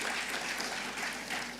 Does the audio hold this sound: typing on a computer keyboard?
no